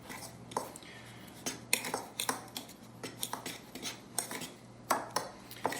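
Utensil clinking and scraping against a bowl while pepper and salt breading for fried oysters is mixed, a steady run of close, sharp taps and scrapes over a low hum.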